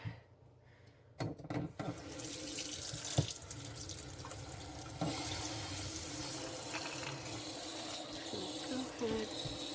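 Water runs and splashes as a houseplant is watered, starting faintly, then a tap-like stream with sporadic drips and clatters, growing fuller after a few seconds and continuing steadily.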